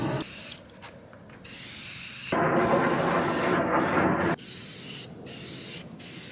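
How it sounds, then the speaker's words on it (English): Krylon spray paint hissing onto a Jeep hard top, several bursts: short sprays, then one long sustained spray, followed by more short bursts, loud and close. "I just held it down and sprayed it all around"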